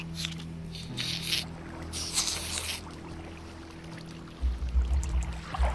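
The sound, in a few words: flowing water carrying silverfish in video game Minecraft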